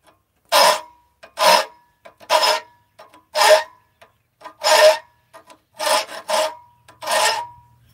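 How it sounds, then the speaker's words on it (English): A file rasps across a forged metal chess piece in eight or so distinct strokes, each a harsh scraping burst with short pauses between, close and loud with no talking. "Gotta love filing."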